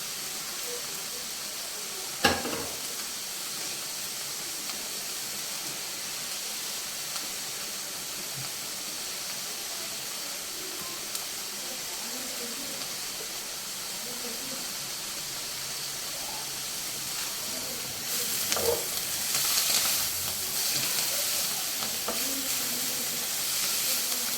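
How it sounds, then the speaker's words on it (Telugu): Curry leaves dropped into hot oil while making a ponnaganti (dwarf copperleaf) pickle give a steady, soft hiss and sizzle, with a brief crackle early on and a louder burst of spitting near the end. "ఇందులో కూడా కొంచెం కరివేపాకు ఇప్పుడు వేసుకున్నాం."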